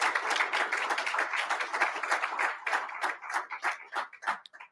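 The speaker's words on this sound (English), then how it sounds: "Let's give them a big round of applause" An audience at an AUSA event applauds its sponsors, a dense burst of clapping that thins into scattered claps and fades out.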